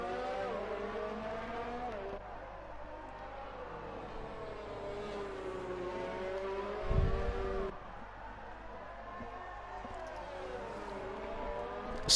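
An F1 car racing around the Hungary circuit in a racing video game: a steady, high whining engine note that rises and falls as it shifts through gears, with a brief rumbling thump midway and a faint voice under it.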